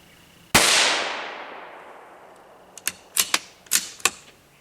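A CZ 457 rifle in .22 WMR fires one loud, sharp shot with a long fading echo, followed by a quick cluster of five lighter, crisp cracks or impacts.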